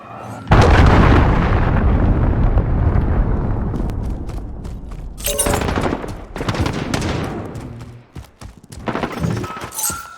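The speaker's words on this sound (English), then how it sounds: "Enemy cruise missile incoming." Cruise missile strike in a video game, a loud blast erupting and rumbling into a long decaying roar, followed by further sharp bursts of explosive impacts.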